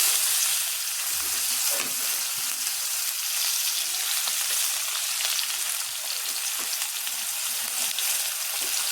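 Onion goes into hot oil tempered with five-spice and dried red chillies, a steady, bright frying sizzle with faint stirring underneath that continues evenly throughout.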